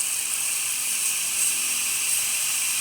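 The steam wand of a Breville Oracle espresso machine, freshly serviced after a full tune-up, gives off a loud, steady, close hiss of escaping steam that holds at an even level throughout.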